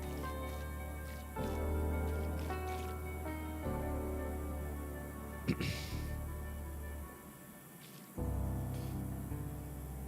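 In the video game PowerWash Simulator, a circular scrubber washes a riverbed, making a steady hissing, watery spray that shifts in pitch and level in several blocks, with no one speaking.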